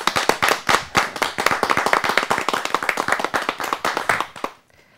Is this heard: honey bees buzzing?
no